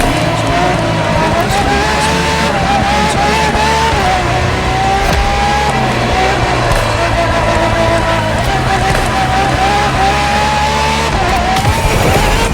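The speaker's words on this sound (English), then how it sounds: "for this second lap, you'll be driving the FXXK" A Ferrari FXXK supercar, a track version of the LaFerrari, races in The Crew Motorfest, its engine droning and rising steadily through gear changes with tire squeal, loud and continuous throughout.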